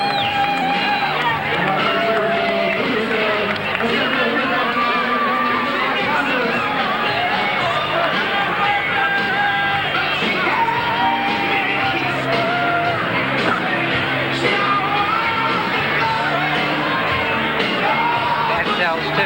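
A boxing arena crowd stands, applauding and cheering with steady loud clapping, whoops and babble filling the hall, while a commentator's voice rides on top.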